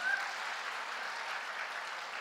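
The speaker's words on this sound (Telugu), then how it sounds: "గట్టిగా చప్పట్లు కొట్టాలి ఇప్పుడు మనం." An audience claps at an award ceremony, a soft, even wash of many hands heard from a distance, steady and unbroken for a couple of seconds.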